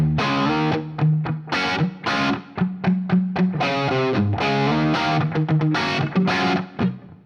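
An electric guitar plays a distorted riff through a favorite effects pedal set to a room reverb sound, with sustained chords and punchy staccato notes in a loose rhythm, loud and close with no talking.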